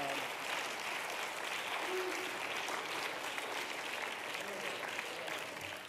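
A church congregation claps together in sustained, dense applause that holds steady for the whole stretch without fading.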